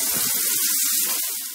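Water gushes steadily from a shower tap in the communal washroom of an old Soviet-era children's summer camp, a loud, even hiss and splash with no voices.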